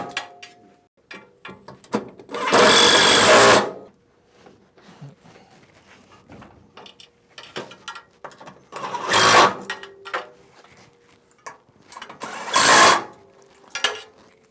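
A power driver on an extension runs in three loud bursts, driving screws upward from beneath a modular Innovatools sheet-metal brake pulled forward off its table, with light clicks and handling knocks between.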